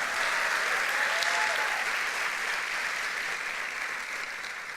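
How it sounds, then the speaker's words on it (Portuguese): Church congregation applauding during a sermon, a sustained wash of clapping that stays loud and slowly tapers. "pode dar uma salva de palmas direito"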